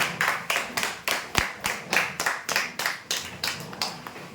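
An audience at a weekly prize draw applauds the winners with close, rhythmic clapping in a steady unison beat that lasts throughout.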